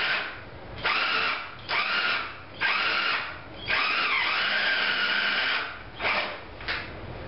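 A power drill drilling a starter hole whines in repeated bursts of a second or so, stopping and restarting, close and loud with no talking.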